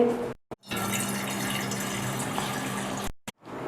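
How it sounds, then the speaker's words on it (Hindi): Water pours steadily from a tap into a cooking pot set for boiling potatoes, a continuous close, moderately loud gush lasting about two and a half seconds, with brief starts and stops at each end and no talking. "थोड़ा सा पानी डालेंगे।"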